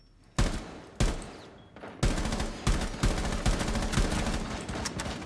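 Gunfire from the video game Rainbow Six Siege: a couple of sharp single shots, then dense rapid bursts of automatic fire, loud and close.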